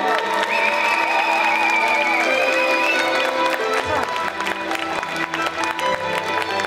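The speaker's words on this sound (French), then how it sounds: "Je vais vous demander un tonnerre d'applaudissements pour nos cosplayers qui sont montés aujourd'hui sur scène pour ce défilé." A crowd cheers and applauds cosplayers after a costume parade on stage at the Roanne Geek Convention, the steady clapping sustained and loud with whoops and raised voices mixed in throughout.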